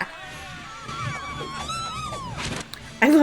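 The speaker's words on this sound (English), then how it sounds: "Her trilling yells. They're so ridiculous and fun." Xena, the TV warrior princess, lets out a shrill trilling war-cry yell, a burst of rapid warbling high tones amid battle noise and music, ending with a loud sharp shout.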